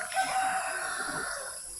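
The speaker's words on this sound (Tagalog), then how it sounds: "nasa labas ang aming mga alagang manok at alagang bibi" A free-range chicken calls briefly from a short distance outdoors, a faint crowing cluck over a steady background hum.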